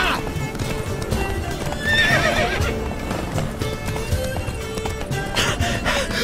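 A horse in The Witcher 3 video game gallops with rapid, rhythmic hoofbeats and gives a whinny partway through, set against steady ambient game sound.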